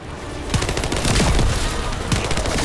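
Enemy gunfire in the video game The First Descendant: dense, loud automatic bursts and rapid shots pour in almost continuously, harsh and close.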